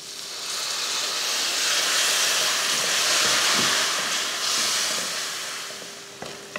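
Water poured into masala frying in a pan for Tamil egg chukka (muttai varuval) gives a loud, close, steady hissing sizzle that swells and holds for several seconds, then eases near the end with a faint clink.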